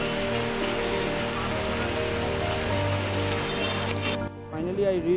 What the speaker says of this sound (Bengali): আর যা মারাত্মক বৃষ্টি হচ্ছে না